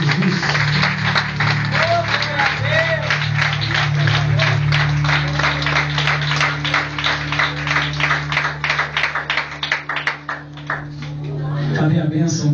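Wedding congregation clapping in a rhythmic, steady beat that runs throughout, with a sustained tone from music or an organ underneath and voices over the top.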